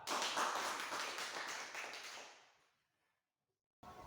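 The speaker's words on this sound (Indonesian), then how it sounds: "beri aplaus untuk kelompok 4" Applause from a classroom of students at a vocational high school, a dense spell of clapping that fades away to silence before a faint return of room noise.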